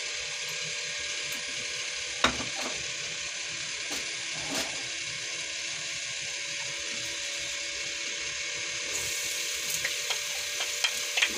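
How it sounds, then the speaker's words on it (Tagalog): Garlic browning in hot oil in a pan gives a steady, faint sizzle and crackle with a few small clicks and pops, continuing evenly throughout with no talking. "Lagyan natin ng mantika para brown muna natin ang ating garlic."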